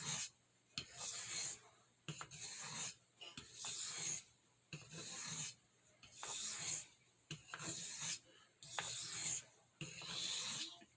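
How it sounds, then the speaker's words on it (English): A large stockman knife is honed on a soft Arkansas oilstone, giving a steady series of rasping strokes with brief pauses between them, close and fairly quiet. "hone on this."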